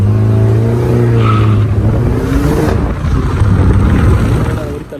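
A Peugeot 308 with a modified sport exhaust revs loudly up close, its throaty exhaust rising and falling in pitch across several seconds, with a brief higher squeal partway through.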